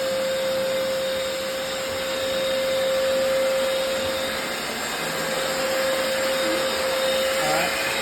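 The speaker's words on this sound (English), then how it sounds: "I'm about to clean it." A Hoover FloorMate floor cleaner runs steadily while cleaning a laundry room floor, a loud continuous motor whine with a constant tonal hum and a slight swell in level, alone with no talk.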